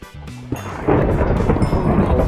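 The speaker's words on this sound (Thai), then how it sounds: "เสียงฟ้าร้องอ่ะ โอ้โหโคตรน่ากลัวเอ้ย" In Minecraft, a loud thunderclap breaks in after a few soft musical notes and then rolls on as a deep, continuous rumble.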